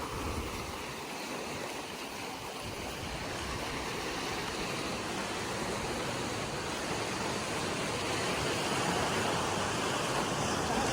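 Sea waves surge against a rocky shore at Bukit Kluang, Kuala Besut, Terengganu. The surf makes a dense, continuous wash that slowly builds in loudness, with no voices heard.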